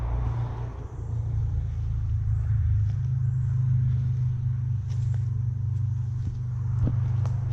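Steady low road rumble from traffic moving nearby, continuous and fairly loud through the whole stretch, with a few faint clicks and rustles over it and no one talking.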